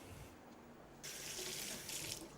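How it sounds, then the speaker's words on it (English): Hot water running from a kitchen tap over a cutting board being washed down, a quiet trickle that opens into a steady hissing flow partway through, close and alone with no voices. "the board needs to be washed down before you do any other cutting with it"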